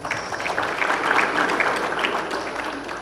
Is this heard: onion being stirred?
no